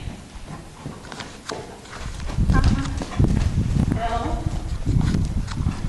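A horse cantering in a riding session, rhythmic muffled hoofbeats growing louder as it approaches, with a person talking over them.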